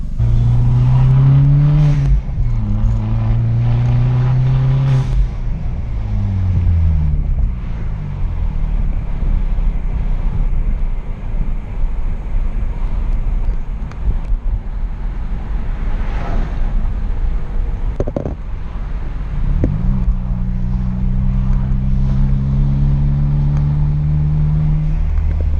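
Car engine revving and shifting through gears while driving in heavy traffic on the way to an auto parts store, loud and close, with rising and falling engine tones and steady road rumble throughout.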